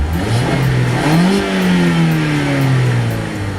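A Mazda MX-5 ND3 engine revs hard toward 7,000 RPM, its pitch climbing steeply then holding high and steady, loud and close with no voices.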